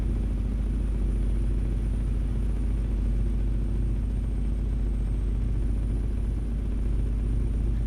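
Euro Truck Simulator 2 truck engine drones loud and steady in a constant low rumble with a faint high whine above it, no talking over it.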